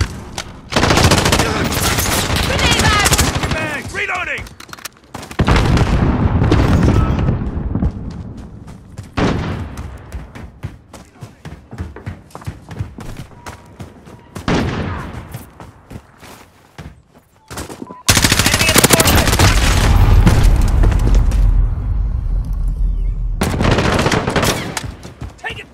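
A Call of Duty: Modern Warfare firefight with loud bursts of automatic gunfire and heavy explosions in several long waves, broken by quieter stretches with distant shots, and voices calling out now and then.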